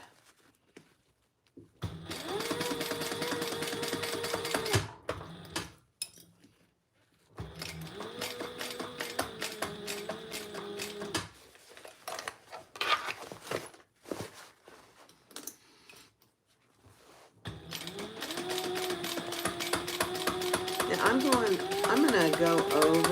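A sewing machine stitching over D-rings on a crossbody bag, running in three long motor-whirring bursts with steady needle chatter, separated by pauses with handling noises, close and moderately loud, with a person talking at times.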